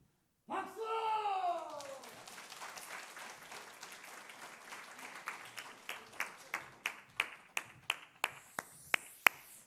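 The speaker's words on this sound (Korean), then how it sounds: "박수!" A congregation at a church revival meeting claps together, breaking into scattered applause after a voice cries out, then settling into slow, loud, evenly spaced unison claps that grow sharper.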